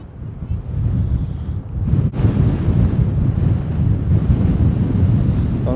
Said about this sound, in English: It's just a bit windy.